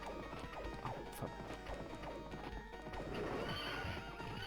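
In the 1991 arcade game Knights of the Round, a horse neighs and its hooves clop while heavy hits and crashes land, a busy, loud stretch of combat sound effects with no speech.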